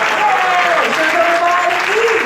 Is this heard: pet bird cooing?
no